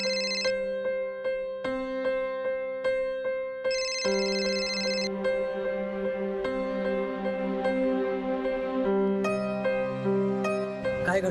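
A mobile phone rings with an incoming call, playing a repeating melodic tune that shifts and brightens partway through, steady and clear with no one speaking over it, in a domestic scene from a Marathi TV drama.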